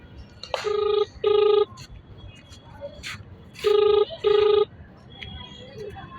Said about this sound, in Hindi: ये लगातार घंटी जा रही है।